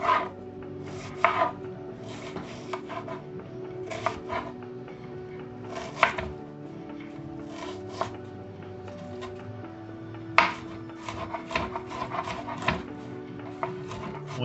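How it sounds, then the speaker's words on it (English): A knife dices an onion on a cutting board for home fries, giving quiet, irregular chopping taps in short clusters with brief pauses between strokes. "I usually dice them by starting by cutting it in half and then slicing that half, rotating it, and slicing it the opposite direction."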